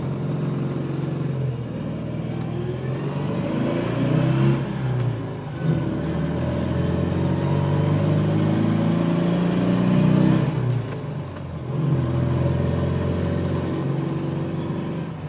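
A Panhard PL17 car running after an engine rebuild, its engine droning steadily and close, with two revs rising and falling around the middle and near the end.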